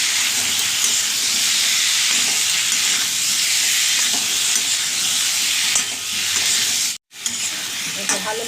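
Spice paste with Kashmiri chilli sautéing in a pan for a pea-lentil fritter curry, giving a steady, close sizzling hiss with occasional stirring scrapes and one brief break near the end.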